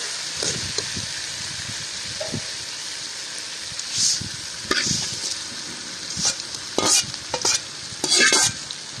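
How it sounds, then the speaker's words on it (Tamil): Mushroom masala stir-frying in a pan at a roadside food stall, a steady close sizzle with repeated scraping stirs and clanks of the ladle against the pan, no voices. "ஓகே இப்போ பரட்டிக்கிறோம் டார்க் துணி பிடிச்சிக்கிட்டு நல்லா மிக்சிங் கொடுக்குறோம்"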